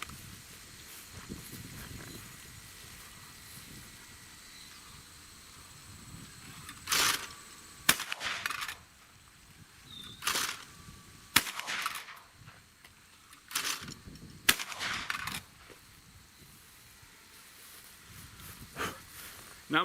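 A Fabarm L4S Grey Hunter shotgun, a light semi-automatic hunting gun, fires several sharp, distant-sounding shots at irregular intervals over a steady outdoor background.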